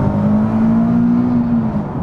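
A Nissan 370Z sports car engine revs under acceleration, a steady rising mechanical drone holding a strong tone for about two seconds before easing off, loud and close.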